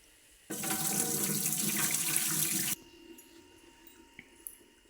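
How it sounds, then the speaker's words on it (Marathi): Water from mung beans soaked overnight pours out in a steady, loud splashing rush for about two seconds, then stops, leaving a few faint drips and quiet handling sounds. "हे सगळं पाणी असं ओतून घ्यायचं."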